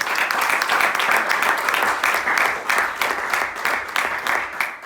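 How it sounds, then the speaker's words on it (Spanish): A church congregation applauds a preacher after a sermon, a dense, steady roar of many hands clapping that fills the space loudly for the whole stretch, with no voices over it. "Dale una ofrenda de aplauso al maestro."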